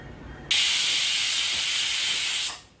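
A pressure cooker whistle blasts steam while Sindhi kadhi cooks on a gas stove, a loud, steady hiss that starts abruptly, holds for about two seconds, then fades.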